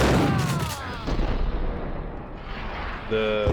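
An explosion in the video game Max Payne erupts as a loud, broad blast at the start, decays into a rumbling tail, and gives way to a brief ringing tone near the end.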